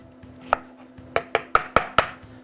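A knife chopping red onion on a cutting board, giving about six sharp, close knocks in an irregular rhythm, bunched toward the end, over a faint hum.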